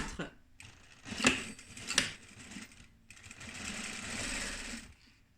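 A sewing machine stitching an assembly seam in fabric for a protective mask, running in close bursts with short pauses between them, plus a couple of sharp clicks.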